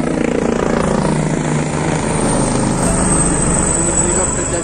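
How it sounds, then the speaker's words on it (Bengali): A helicopter flies past near the Kedarnath base camp, a loud steady rotor drone with rhythmic chopping that holds constant across the moment, close and dominating the scene. "হেলিকপ্টার যাচ্ছে"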